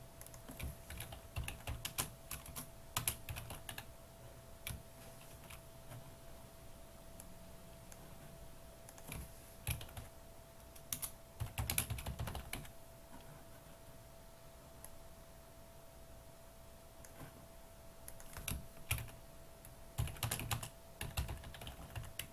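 Typing on a computer keyboard to enter caption text for a picture slide, soft clicking keystrokes in short irregular bursts, quiet and close with no talk.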